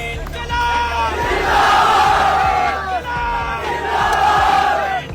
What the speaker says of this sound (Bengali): চারদিক থেকে অনবরত ভেসে আসছে ইনকিলাব জিন্দাবাদ স্লোগান।